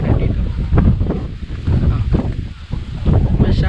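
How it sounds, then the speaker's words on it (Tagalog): Strong wind buffets the microphone outdoors by a lagoon during a road trip, a loud, gusty rumble rising and falling throughout, with a voice speaking faintly underneath. "Mahangin. Mahangin, oh."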